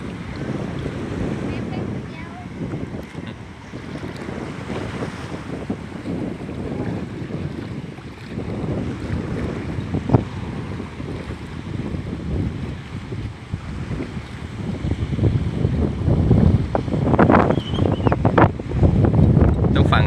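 Strong wind blows across a rocky beach on a rainy day, with waves crashing against the rocks; heavy, continuous buffeting wind noise covers the rolling surf, which grows louder toward the end.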